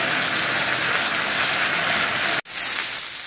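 Potatoes browning in a pan give off a steady, loud, close sizzle. It cuts out briefly near the end, then picks up again.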